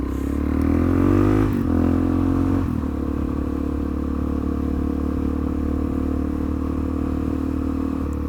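Motorcycle engine running steadily at road speed with a rising rev early on, then a constant drone mixed with wind and road rumble, close and loud, no talk.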